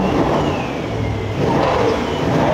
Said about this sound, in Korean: 배기음 한번 볼게요.